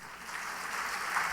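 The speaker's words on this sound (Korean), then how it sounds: "박수 한번 해드리세요." A church congregation applauds during a Sunday worship service, a soft, distant, continuous patter of many hands with no voices over it.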